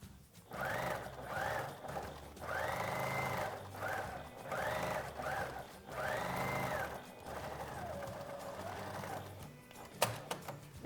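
Bursts of sewing machine stitching around a tube of quilted fabric for a drawstring channel, rising and stopping in several runs of a second or two each, with a whirring motor hum and a faint click near the end.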